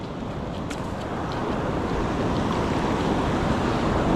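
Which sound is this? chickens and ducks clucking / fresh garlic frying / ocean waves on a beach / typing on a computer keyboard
ocean waves on a beach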